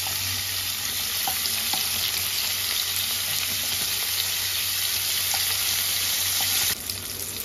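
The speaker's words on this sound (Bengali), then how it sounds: "চিংড়ি মাছগুলো আমার হালকা ভাজা হয়ে গেছে," Prawns sizzling in hot oil in a pan after being turned over, a steady dense crackle with small pops and spatters held at even loudness throughout, with no talking.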